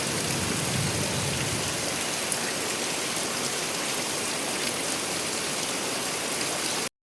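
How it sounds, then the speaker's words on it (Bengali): Heavy, pounding rain falls without pause, a dense, loud, continuous roar lasting several seconds before cutting off abruptly, with no voices. "যেইভাবে বৃষ্টি হচ্ছে, আকাশ ভাঙা বৃষ্টি।"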